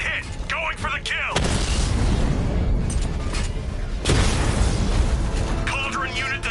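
Cauldron unit being destroyed in Batman: Arkham Knight, heard as a loud sustained blast and roar of debris with a second boom partway through, with game voice lines at the start and end.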